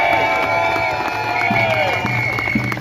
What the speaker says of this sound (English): Keep clapping for Ian, that was brilliant